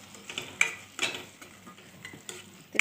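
Onion masala being sautéed in hot oil for a paneer curry, with soft sizzling and a few clear stirring scrapes and clinks of a spoon against the pan, close and moderately loud, with no talking.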